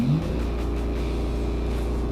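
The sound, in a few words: BMW M2 engine revving, accelerating at full throttle in first gear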